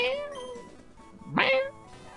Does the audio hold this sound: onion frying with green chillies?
no